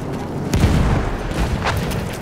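Artillery fire in the Battlefield 1 video game, a heavy low boom landing near the start followed by rumbling blasts and scattered distant crackles of gunfire, with a voice faintly under the din.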